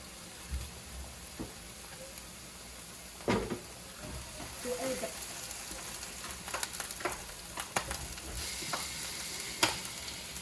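Ground beef, pre-cut and thawed from frozen, dropped into a pot for pasta sizzles faintly amid clinks and scrapes of stirring, with someone talking at moments.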